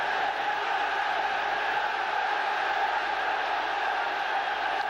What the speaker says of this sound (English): And just listen to how the crowd have responded to that.